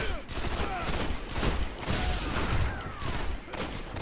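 In the shooter game Destiny, rapid bursts of gunfire crackle in quick repeated volleys, loud and dense, filling the moment without pause.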